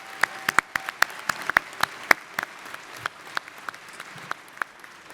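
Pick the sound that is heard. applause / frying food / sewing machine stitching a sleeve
applause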